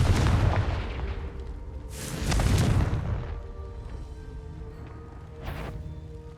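Confringo fire-blast spells cast in the Hogwarts Legacy video game, two heavy booming explosions a couple of seconds apart followed by a fainter third blast, each trailing off in a low rumble.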